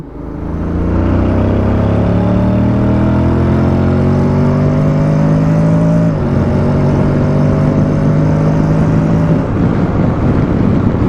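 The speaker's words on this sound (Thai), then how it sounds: "โหมดสปอร์ตเนี่ยความรู้สึกคือ รถมีการลากรอบค่อนข้างสูง ก่อนที่จะมีการ ชิปเกียร์ขึ้นให้อัตโนมัตินะครับ" A 2023 Honda X-ADV 750 in sport mode revs strongly and climbs through the revs, its droning engine note rising in pitch and dipping briefly mid-run. Loud, close and continuous, with no talking.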